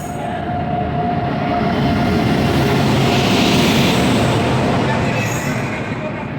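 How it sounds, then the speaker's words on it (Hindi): A Dr. Ambedkar Nagar Express, train 14116, arrives on a line through Lalitpur and Khajuraho with a loud, steady rumble of rolling wagons that swells toward the middle and holds throughout, with no gaps. "आ रही है दोस्तों, देखिए आप डॉक्टर अंबेडकर नगर एक्सप्रेस।"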